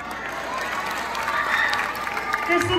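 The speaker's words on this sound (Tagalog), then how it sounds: "sabay-sabay po natin palakpakan at hiyawan si Binibini Christine" Crowd applause and cheering at a Miss International Queen Quezon 2023 pageant costume segment, a dense, steady wash of clapping and shouts building slightly toward the end, with voices mixed in.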